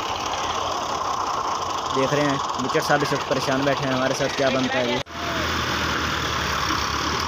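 A 55-horsepower Fiat tractor engine idling nearby, a steady mechanical rumble with a pulsing throb, heard under someone talking, with a sudden cut partway through before the drone resumes.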